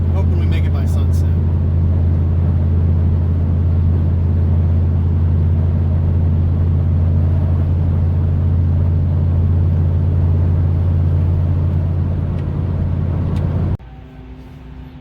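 A bus with a failed rear brake chamber drives along the road, its engine and drivetrain giving off a loud, steady low rumble that continues without break before cutting suddenly to a quieter hum near the end.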